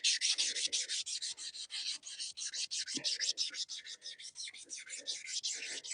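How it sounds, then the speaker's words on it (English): Rust being scrubbed off the cutterhead of a ZT1844 mower during a bearing replacement, a steady, close, rhythmic rasping stroke repeated rapidly without pause, loud and alone. "Get as much of that lovely rust off as I can."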